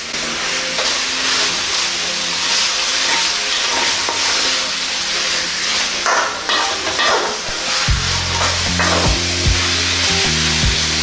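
Beef curry simmers and spits in a pan with a continuous loud hiss and bubbling, broken by occasional stirring scrapes; a low rumbling hum comes in near the end.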